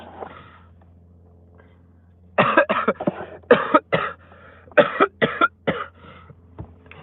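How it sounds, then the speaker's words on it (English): A fit of harsh, repeated coughing up close, about ten coughs in quick bursts after a quieter start. "if you do that, you'll be coughing for 10 minutes"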